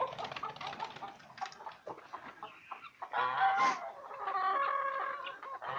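Several young Leghorn hens cluck and chatter close by, overlapping calls rising into longer, louder squawks toward the end.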